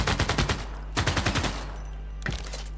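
Shooting in Civilization VI during a Sparta game. Three quick volleys of rapid, rattling shots are separated by short pauses, with a steady low hum underneath.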